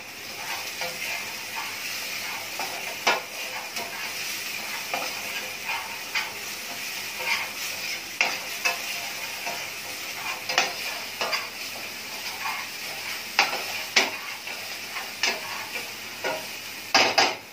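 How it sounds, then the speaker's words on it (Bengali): Chicken roast masala with coriander powder, cumin powder and salt is stir-fried in a pan, giving a continuous sizzle broken by frequent scraping stirs and light clacks. "আবার এখন কষাবো।"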